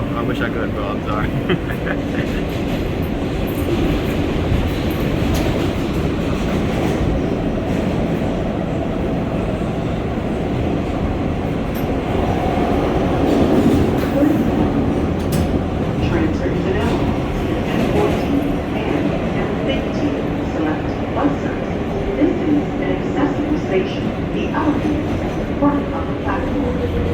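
Inside an R143 New York subway car on the L line, a continuous loud rumble and rattle of wheels on track with rising and falling motor whine, and voices faintly present.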